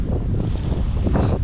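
Strong wind of about 12 to 13 mph whips across open marsh water raising whitecaps and waves, a loud continuous roar with buffeting wind noise on the microphone and sloshing surf.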